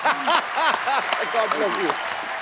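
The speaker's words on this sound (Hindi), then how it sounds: "तालियां बजाती रहे।" A studio audience at a comedy show keeps clapping under lively voices, the applause a steady background bed beneath animated talking.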